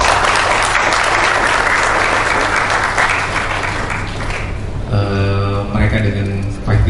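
Sustained loud applause from a seminar audience at a national Green IT event, dense steady clapping filling the room, with a voice and tonal sound coming in over it near the end.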